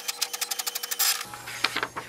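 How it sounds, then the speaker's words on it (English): An HP Envy Pro 6400 inkjet printer printing a page, giving a quick run of evenly spaced mechanical ticks and whirs that ends in a louder feed burst, then softer clicks and motor hum, close and with no talk. "it will send a command for the printer to print a page."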